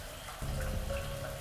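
Water splashing and pattering steadily over a short stretch, growing a little louder partway through, with no voices over it.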